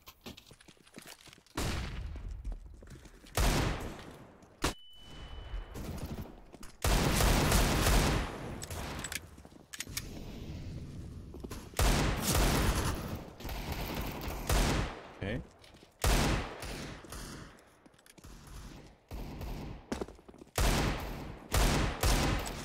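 Gunfire in the CS:GO game on the Mirage map during a competitive match: repeated bursts and single shots come in an uneven rhythm, loud and close, with voices talking over parts of it.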